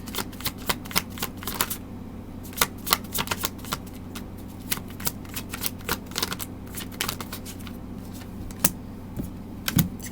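Tarot cards are shuffled by hand at close range, giving a rapid stream of soft riffling flicks and taps that come in irregular clusters over a quiet background.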